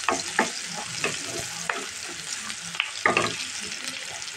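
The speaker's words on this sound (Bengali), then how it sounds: "কচু শাকটা ঢেলে দিব।" Taro leaves going into hot oil with fried garlic and being stirred, a steady close sizzle of frying broken by repeated scraping, stirring knocks throughout.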